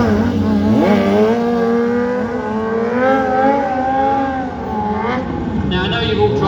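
Stunt motorcycle holding a sit-down wheelie during a stunt show, with a loud, close engine droning and rising in steady revving sweeps, then easing and climbing again over a windy, rushing background.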